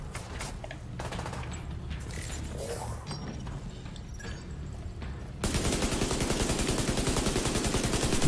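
Rapid automatic rifle fire in The Division 2, a steady burst of evenly spaced shots that starts abruptly partway through and runs loud to the end, preceded by quieter game ambience and scattered distant shots.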